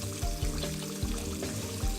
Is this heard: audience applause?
no